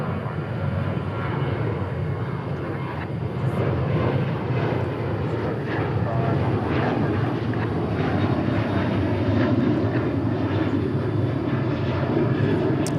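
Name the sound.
Sun Country airliner taking off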